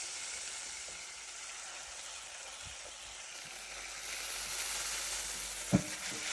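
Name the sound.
tomatoes sizzling as they are added to the frying pan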